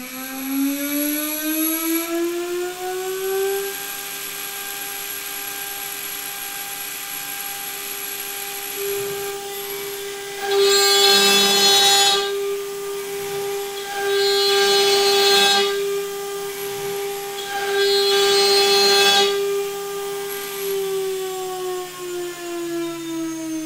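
CNCDepot S30c ATC spindle on a CNC machine holds a steady, loud tonal whine, broken by three louder, harsher cutting bursts spaced a few seconds apart.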